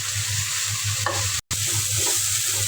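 Noodles being stir-fried in a home kitchen pan, with a loud close sizzle and scraping stirs, briefly cut by a short gap of silence.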